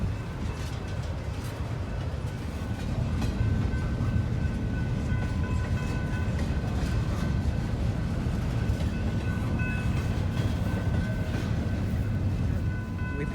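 A Norfolk Southern mixed freight train rolls slowly past McCord Park, a continuous heavy rumble of wagons with steady rail clatter and metallic squeals, fairly close.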